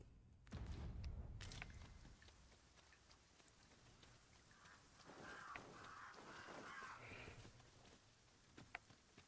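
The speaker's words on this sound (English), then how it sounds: "Those are just crows." Crows cawing in Dragon's Dogma 2, faint and distant calls scattered over a soft, steady wash of rain-like ambience, with an occasional thump and no talking.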